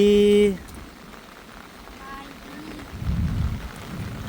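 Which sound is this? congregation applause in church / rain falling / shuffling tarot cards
rain falling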